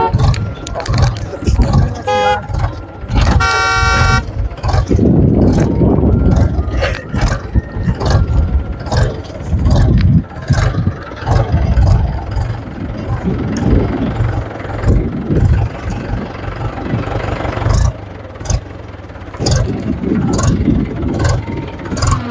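A tractor engine idles and runs with a steady low rumble throughout, nearby and fairly loud, during mustard crop threshing, while people argue and talk loudly over it.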